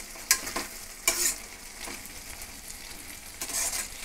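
Tomato gojju is stirred in a hot pan with a soft, steady sizzle. A few scraping strokes of the spoon stand out clearly above the frying.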